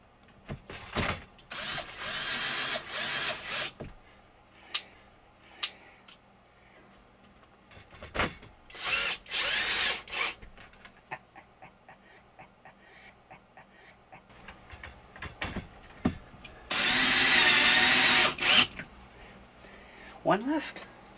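A power drill driving screws into an RV ceiling fan screen, several separate bursts of whirring with quiet gaps between them, heard close, with a person talking between bursts.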